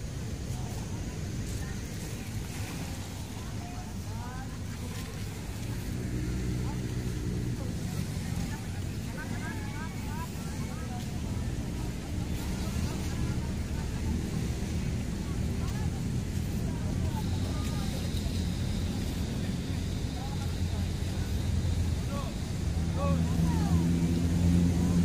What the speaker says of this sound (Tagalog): Yan yung bangka